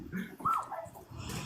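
A dog gives a few short whimpering yips close to the microphone, brief and fairly quiet.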